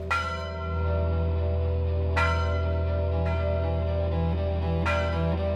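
Church bells ring out in slow, resonant strikes, each toll swelling and fading over a steady low hum of ringing overtones.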